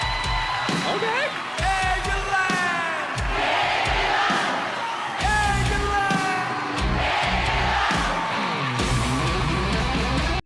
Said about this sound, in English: an England breakdown section where the crowd chanted back